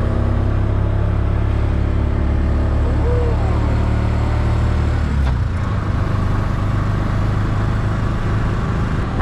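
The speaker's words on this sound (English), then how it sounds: "I love these tuk-tuks" A tuk-tuk engine driving through the streets of Siem Reap, Cambodia: a steady close motor rumble and drone throughout, with a shift in engine tone midway, no talking.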